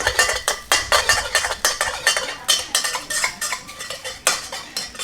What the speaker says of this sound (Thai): แล้วก็จะคั่วให้เขาหอมเลยนะครับ